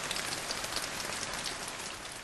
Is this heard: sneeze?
no